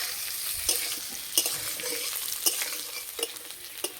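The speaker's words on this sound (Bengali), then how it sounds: "আলু ভাজা হয়ে গেছে" Pieces of pre-boiled potato frying in oil, a steady close sizzle broken by sharp scraping clinks of stirring every second or so, with no voices.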